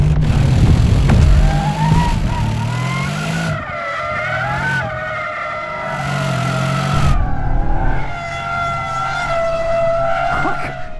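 A Bentley Continental GT Speed driven hard on a racetrack, with loud engine revs rising and falling through gear changes and tyres squealing repeatedly in long, close, sustained howls.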